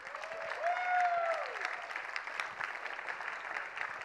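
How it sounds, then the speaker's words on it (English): A round of applause at the Build 2016 Imagine Cup award presentation for the competing teams: soft, distant crowd clapping in a large hall, with a brief tonal voice-like sound rising early on. "And give them all a round of applause."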